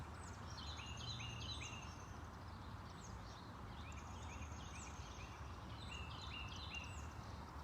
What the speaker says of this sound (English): Enjoying the little noises of the birds.